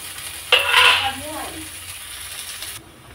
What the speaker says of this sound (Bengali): বাঁধাকপিগুলো 3-4 মিনিট ধরে ভালো করে একটু ভেজে নেব